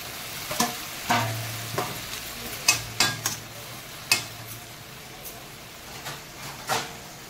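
Prawns frying in a pan with chopped coriander leaves, a steady sizzle broken by a series of sharp scraping stirs and clinks of the spatula at irregular intervals, with no talking.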